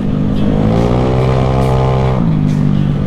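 A motorcycle engine freshly restored runs loud and close, a thick steady drone with a rising rev that drops briefly before settling again.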